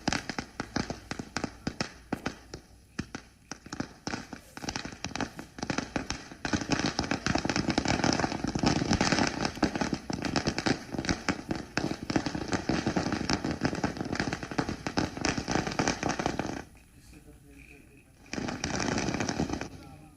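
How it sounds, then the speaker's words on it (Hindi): A long, dense barrage of firecrackers crackles and pops rapidly outdoors on a main road, nearly continuous and loud, with a brief lull before another burst near the end. "तो ये मुख्य सड़क है और यहां पर पटाखे फोड़े गए।"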